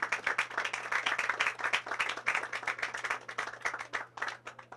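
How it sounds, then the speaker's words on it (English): A crowd applauds steadily at the commissioning of an aquaponics system, dense clapping from many hands filling the whole stretch without pause. "put your hands together and give them a round of applause"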